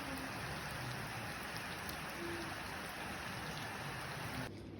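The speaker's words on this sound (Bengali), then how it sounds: "একদম বাংলাদেশের মতো বৃষ্টি হচ্ছে।" Steady rain falls throughout on a rainy day, a dense even patter with no talk, dropping off slightly just before the end.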